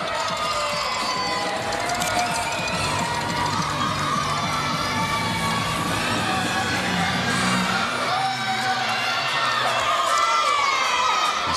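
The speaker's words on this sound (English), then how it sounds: "You see the Hawkeye team cheering on Lexi Mura" Iowa Hawkeyes gymnastics teammates cheer and shout for a competitor at a Big Ten women's gymnastics championship, a loud, continuous mix of whoops and crowd noise filling the arena throughout.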